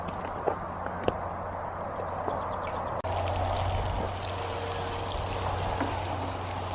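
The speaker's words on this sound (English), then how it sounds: "So water them." Newly planted lettuce seedlings being watered in a garden bed, a steady pouring stream of water rising partway through after a few soft footsteps and bumps, fairly close and continuous.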